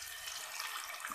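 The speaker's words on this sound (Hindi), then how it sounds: "हमने ये फिश के पीसेस जो है इसमें जो हमने मैरिनेट किए थे डाल देंगे" Marinated fish pieces are dropped into hot frying oil, giving a steady, loud, close hiss of sizzling with no talk.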